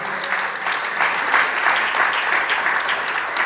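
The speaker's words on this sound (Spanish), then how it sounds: "¿Cuántos damos aplausos al Señor," A church congregation claps steadily for the Lord, with dense, even applause throughout and no clear voices above it.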